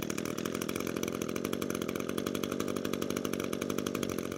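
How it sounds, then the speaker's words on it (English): A small string trimmer engine runs with an even, buzzy putter, close and unbroken for a few seconds and without any voices. "we'll pull the recoil 2 to 3 more times and it should fire"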